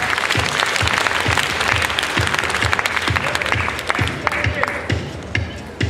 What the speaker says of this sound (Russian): Ваши аплодисменты, ребята.